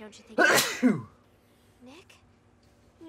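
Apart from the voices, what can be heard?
sneeze in video game Lollipop Chainsaw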